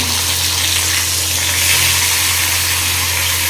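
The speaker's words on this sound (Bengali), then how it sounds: "এখন বাকি মাছগুলো একটা একটা করে ভাজা করে নেব।" Fish fries in a small iron kadai with a steady, loud sizzle that runs unbroken for a few seconds, close by and with no talking.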